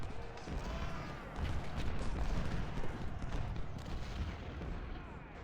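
Civil War battle in Ultimate General: Civil War, a dense, continuous rumble of distant musket volleys and artillery fire rolling together at steady loudness, with no single shots standing out.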